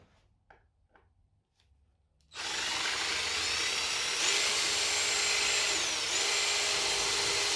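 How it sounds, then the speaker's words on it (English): After a couple of seconds of quiet tapping, a power drill kicks in loudly and runs steadily, its pitch shifting slightly as it bores through. "we'll come back and drill those holes"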